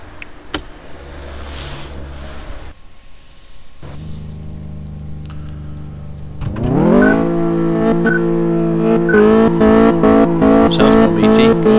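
Engine of a car on a drag track in the Car Mechanic Simulator video game: a low idle hum, then a loud revving that climbs in pitch through several gear changes, with no talking.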